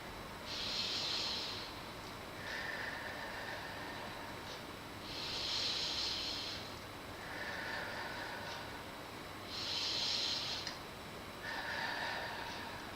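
Slow, deliberate breathing during a kinesiology exercise: three breathing cycles, each a breathy inhale followed by a softer exhale, close and quiet.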